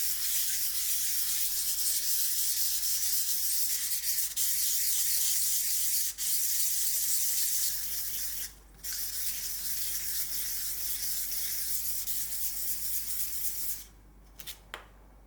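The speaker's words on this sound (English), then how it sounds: "I'm going to go through medium and fine grades of sanding papers to finish the surface." A resin pendant with a crushed opal inlay is sanded by hand with sandpaper, a steady scratchy rubbing that carries on close and continuous, pausing briefly twice near the end with a few short strokes.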